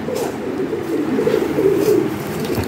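Lahori Shirazi pigeons coo close by in a loud, steady, throaty rumble that swells slightly toward the end, with no talking over it.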